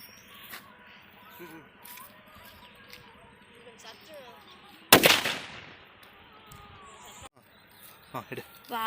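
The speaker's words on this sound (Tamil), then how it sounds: "யானை வெடி எப்படி வெடிக்குதுன்னு பார்த்துடலாம் வாங்க." A single 5-inch Lakshmi elephant-brand firecracker from Valangaimaan bursts with one sharp, loud bang that decays quickly. Voices talk before and after it.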